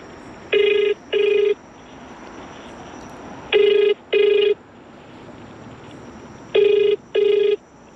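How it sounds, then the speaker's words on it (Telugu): A telephone ringback tone sounds in three evenly spaced pairs of buzzing rings while a call goes unanswered, steady and clear over faint background hiss. "రింగ్ అవుతుంది"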